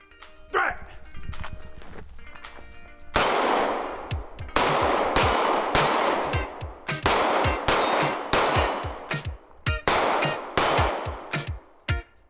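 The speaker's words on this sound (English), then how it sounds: "getting to go basically shoot that run and gun." Pistol shots ring out on a run-and-gun shooting course at a training center, with rapid, sharp, loud reports in uneven bursts over about nine seconds after a quieter lead-in with brief voices.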